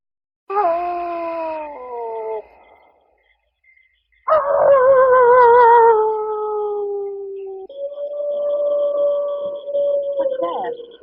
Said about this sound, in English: a jackal howls outside to mark the coming